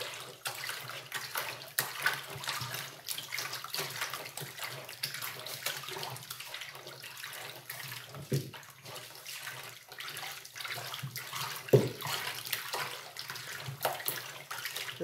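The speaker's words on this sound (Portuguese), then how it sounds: "Eu vou continuar mexendo até se transformar" A homemade soap mixture is stirred by hand in a large batch. A continuous, fairly faint wet swishing and sloshing carries on throughout, with occasional louder knocks and no speech.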